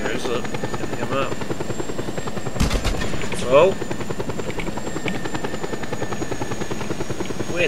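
A helicopter in the video game Just Cause 2 drones with a loud, steady rotor buzz. Brief gunfire-like bursts and a player's exclamation sound over it.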